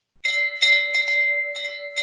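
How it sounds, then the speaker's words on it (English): A small hand bell rings at a hackathon winner announcement, several bright metallic strikes in quick, uneven succession, each ringing on with a clear sustained tone, close and loud in a quiet room. "I'll just ask Vim just to ring that bell one more time"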